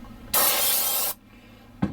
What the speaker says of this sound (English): But hitting that with the brake cleaner.